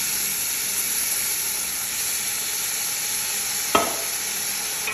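Meat sizzles steadily in a frying pan with a continuous hiss, and a single scrape of stirring comes near the end, close up with no voices.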